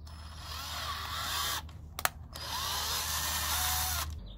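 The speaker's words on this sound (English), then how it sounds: "right now we're going to make a pilot hole in the center of this little plastic trim piece here" A power drill bores a pilot hole in a small plastic trim piece inside a 2nd-gen Toyota Tacoma. It whines steadily, pauses briefly with a click, then runs again, close up with no talking.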